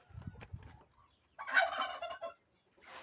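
Small guinea fowl and turkey chicks peep and chirp in a quiet village yard in the morning, with short bursts of soft calls separated by brief silences.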